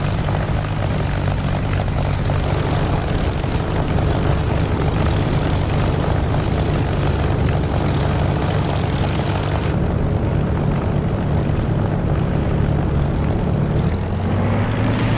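Propeller aircraft engine droning steadily in the DCS flight simulator game as the plane taxis toward the runway for takeoff, a loud continuous hum with no talk.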